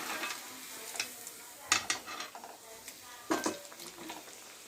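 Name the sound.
chicken frying in hot oil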